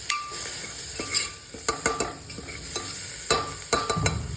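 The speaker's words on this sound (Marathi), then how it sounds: "स्वतः मस्त परतून घ्यायचं आहे" Food sizzles softly in a pan while a spatula scrapes and stirs, with sharp metallic clicks and taps recurring irregularly throughout.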